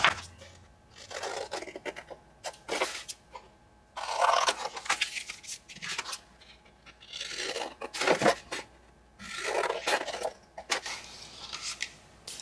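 Paper rectangles are trimmed for ephemera, giving a series of separate crisp cutting and sliding paper sounds in short bursts with quiet pauses between, close and fairly soft, no voices.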